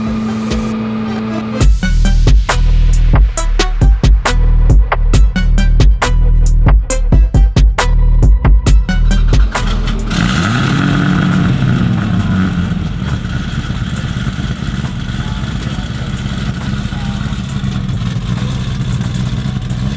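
A full carbon widebody Corvette ZR1 exhaust fires loud, sharp revs in a rapid series of blips, then settles into a deep rumbling idle with engine clatter, close by and without talk.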